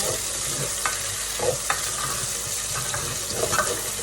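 Pork sizzles and fries in a pan while its fat renders for ginisang monggo, a steady hiss broken by a few soft stirring scrapes and clicks.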